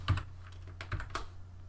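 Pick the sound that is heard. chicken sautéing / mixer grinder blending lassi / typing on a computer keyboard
typing on a computer keyboard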